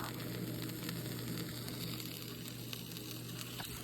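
A grilled cheese sandwich fries in a pan with a continuous, steady crackling sizzle, close and even, accompanied by a low electrical hum.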